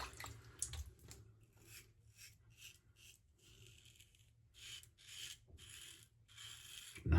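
Close, crisp rasping strokes of a Rockwell T2 safety razor shaving a wet face, set to 3, arriving in short uneven bursts with quiet gaps and faint water drips between them.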